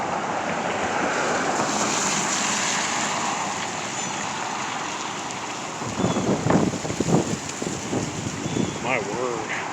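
A strong wind roars in gusts through woods outside in Breedsville, Michigan, a dense broadband rush that swells and buffets the microphone, with a voice faintly heard in the later seconds.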